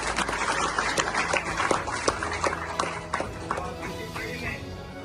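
Loud, sustained applause from an audience at a felicitation function, dense rapid clapping with some sharper individual claps standing out, tapering slightly toward the end.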